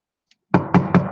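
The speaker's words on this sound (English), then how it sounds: "knock on stainless steel." Three sharp knocks on a stainless steel surface, close and fairly loud, evenly spaced in quick succession after a brief silence.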